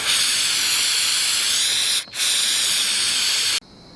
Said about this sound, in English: I'm going to throw them in some carb cleaner, let them soak, blow them out with some air, and I'm going to spray this.